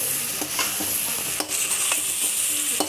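Chicken pieces fry in oil for Pallipalayam chicken, a continuous bright sizzle broken by repeated clinks and scrapes as a ladle stirs the pan.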